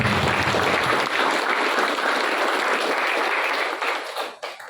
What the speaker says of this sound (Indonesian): mari kita tepuk tangan kepada Kemenak ini